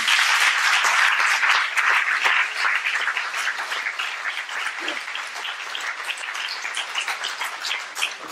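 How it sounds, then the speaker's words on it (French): A crowd at a school's new-building inauguration applauds steadily throughout, dense clapping that stays loud and sustained before easing slightly toward the end. "Je crois que vous pouvez l'applaudir aussi."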